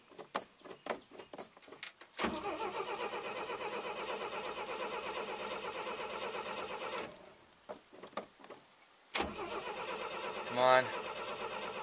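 Starter cranking on a 1957 Chevrolet 210, a long steady churning run that stops, then a second shorter attempt that does not catch, opening with keys jangling and a brief voice near the end.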